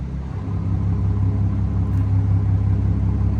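A tuned M-Sport BMW 540i with its stock turbo idles with the exhaust cutout open, a deep, steady, close rumble that swells slightly as the cutout switches over near the start, then holds even.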